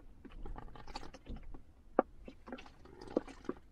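Water poured from a bottle for washing at a makeshift basin in a camper, quiet intermittent splashes and dribbles with a few sharper drips and plastic knocks, close and alone.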